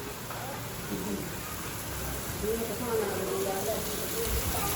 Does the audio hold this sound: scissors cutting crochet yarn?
no